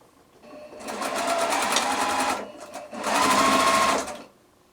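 A sewing machine stitches a quilt star block seam in two loud, steady bursts of rapid needle rattle with a brief pause between them, then stops.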